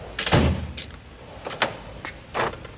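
A drawer in a large tool box is pulled open, sliding out with a couple of rolling rattles and metallic clunks of the wrenches inside, close and fairly quiet.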